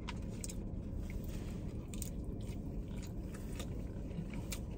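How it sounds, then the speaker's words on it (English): Close, steady biting and chewing of crunchy fries served with a saucy barbecue luau hot dog, soft repeated crunches and squishy mastication over a low background hum, with no talking. "The fries have a decent crunch."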